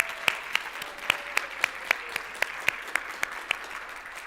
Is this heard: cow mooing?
no